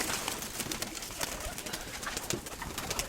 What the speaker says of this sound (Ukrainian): Оцей голуб не був вдома більше двох тижнів